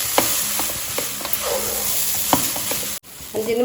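Idiyappam rice being stirred in a hot pan, a close sizzle with repeated scraping and tapping from the spoon and a brief dropout near the end.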